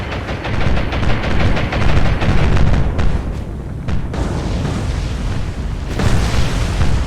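Torpedoes striking and exploding against ships in the naval combat game War on the Sea, loud, heavy booming blasts rolling on in a continuous low roar with sharper crashes breaking through, no voices.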